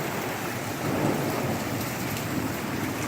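A sudden thunderstorm heard from a porch, heavy rain pouring in a dense, constant roar with a low rumble of thunder swelling in the middle, no voices.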